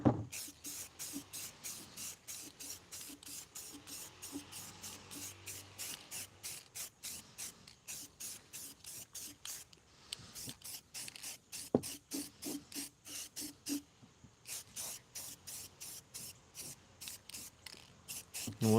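Aerosol paint sprayed in repeated short bursts over a PVC bird house, a steady rhythm of hissing pulses with brief gaps, close and moderately loud with no talk.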